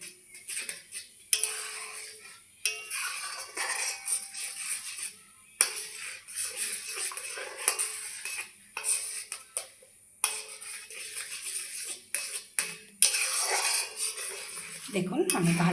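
Semolina and milk mixture being stirred in a pan for a sweet, with repeated clinking scrapes of a spoon against metal in bursts and short pauses, close by, with a voice talking over it.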